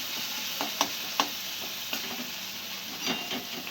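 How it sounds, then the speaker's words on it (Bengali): Tomatoes sizzling in a pan while being fried for veg masala Maggi noodles, a steady hiss broken by a few sharp stirring clinks and pops, close up with no talk. "টমেটোটা একটুখানি কষিয়ে নিলাম,"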